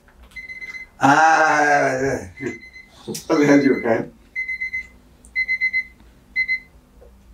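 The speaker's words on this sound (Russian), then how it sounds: "И это звонит будильник." Mechanical alarm clock ringing indoors in loud, buzzing bursts, first long and then in shorter repeated rings, with someone speaking between them.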